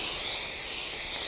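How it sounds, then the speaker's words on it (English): Aerosol brake parts cleaner blasts in a steady, close hiss onto the back of a brake rotor during a rear brake job on a 2000-2006 BMW X5, one continuous spray with no pauses. "we're going to clean the back with some brake parts cleaner"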